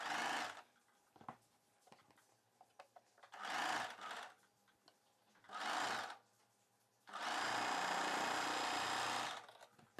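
A sewing machine joins the second half of cross-cut blouse pieces, running in four separate bursts: three short runs, then one long steady stretch near the end, each loud and close with quiet pauses between.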